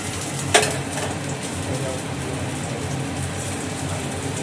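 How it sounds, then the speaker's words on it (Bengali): Garlic fries gently in hot oil for chilli potato, giving a constant low sizzle. A single sharp utensil clink sounds near the start. "রসুনটা বন্ধুরা দেখো আমি একটু হালকা করে ভেজে নিলাম, আর গরম হয়ে গেছে।"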